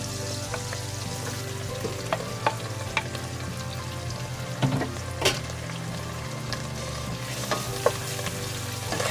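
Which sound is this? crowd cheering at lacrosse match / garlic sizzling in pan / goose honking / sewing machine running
garlic sizzling in pan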